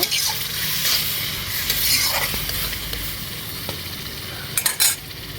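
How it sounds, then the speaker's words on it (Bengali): Spiced vegetables are stirred into butter and fried onions for pav bhaji, a constant close sizzle under scraping spoon strokes, with a few quick metallic clinks near the end. "মশলে রাখা সবজিগুলোকে তার ভিতরে দিয়ে দিচ্ছি, ভালো করে বাটারের পেঁয়াজের সাথে ভালো করে মিশিয়ে নিব।"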